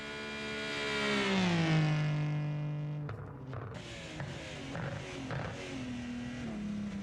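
A BMW race car in the ESL R1 racing video game revs up, its engine pitch climbing and sliding down through a gear change, then settles into a steady, buzzing drone at moderate volume with no voices.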